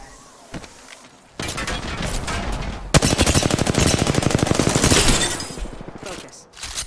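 Rapid automatic gunfire in a ranked shooter video game: a long, fast, evenly spaced burst of close, loud shots lasting a couple of seconds, with a brief rough blast just before it and quieter noise trailing after.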